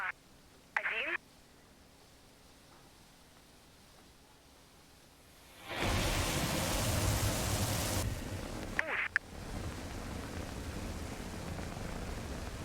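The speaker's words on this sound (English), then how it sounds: "It's just a bit of rain, guys." Rain in the Mars Horizon space-agency game during a rocket launch: a steady broadband hiss that swells in partway through and continues to the end, with a few brief clicks.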